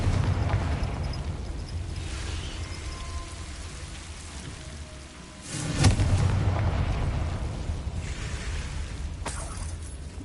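A Confringo blasting spell goes off in the Hogwarts Legacy video game, a muffled explosive burst rising out of steady, rain-like rumbling background noise, with the soundscape continuing around it.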